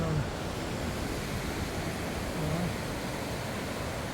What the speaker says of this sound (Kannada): ಭಟ್ಕಳದ ಜಾಲಿ ಕಡಲ ತೀರ ಇದು